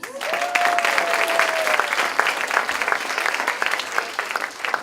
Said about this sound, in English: And can we have a special round of applause for all my wonderful teachers?